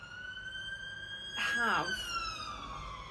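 A police siren wails in the background, rising and falling in a short sweep that stands out briefly and fades, heard faintly under a person talking.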